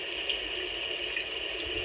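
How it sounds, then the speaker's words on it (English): Steady, even rushing patter of artificial rain from a sound machine, continuous and moderately loud with no breaks or voices. "Rain."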